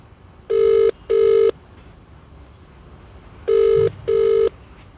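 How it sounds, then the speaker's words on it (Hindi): A telephone ringback tone buzzes in two double rings, each pair of short tones separated by a pause, loud and clear with nobody picking up. "बैल जा रही है लेकिन उठाया नहीं जा रहा।"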